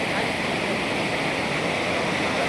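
A flooded village river runs after heavy rain, its water rushing in a steady, dense roar that stays close and constant throughout, with no other sound on top.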